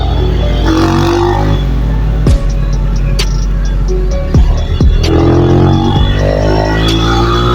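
Motorcycle exhaust with a stock muffler, recorded while riding: a loud, steady engine drone with rising rev swells and occasional sharp clicks and knocks, close and continuous throughout, with no talking.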